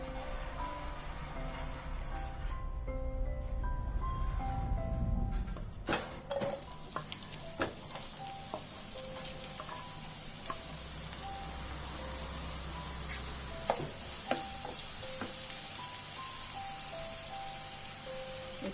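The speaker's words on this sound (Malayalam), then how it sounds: "സവാള വഴറ്റാം." Sliced onions sauté in oil in a pan, a continuous soft sizzle with scattered stirring clinks and scrapes, a louder rush of frying early on, close up with no talking.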